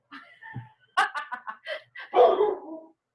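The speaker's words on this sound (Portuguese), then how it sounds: "Tô ouvindo o cachorro" A dog barks several times in short uneven bursts during an online class, fairly near and loud, with faint laughter-like sounds between barks.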